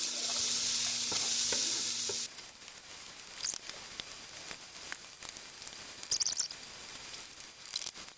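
Onions frying in a pan with a low sizzle and scattered stirring scrapes, following a couple of seconds of broad hissing noise at the start; no voices.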